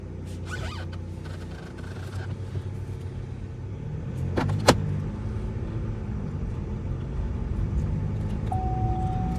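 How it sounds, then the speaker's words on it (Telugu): An MG Gloster SUV drives in auto mode, its engine a low, smooth rumble heard from inside, with a couple of brief clicks and a faint tone near the end. "ఆటో మోడ్లో ఎలా ఉందో డ్రైవ్ చేసి మీకు చూపిస్తాను"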